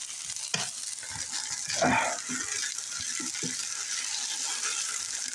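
Mac and cheese stirred in a cooking pot at home, a soft scraping and rattling of the spoon against the pot with faint sizzling underneath, steady and close with no talking.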